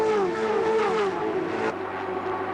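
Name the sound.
race cars racing, Auscar series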